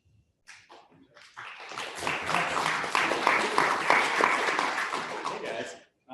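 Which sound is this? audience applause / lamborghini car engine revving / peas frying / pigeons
audience applause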